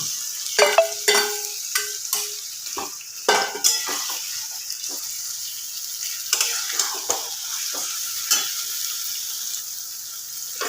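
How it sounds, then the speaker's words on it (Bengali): Marinated chicken sizzles and fries in a pan, with repeated scraping and clinking of a utensil stirring it against the metal, steady frying hiss underneath. "তো মাংসটাকে আমি এবার ভালো করে একটু কষিয়ে নেব"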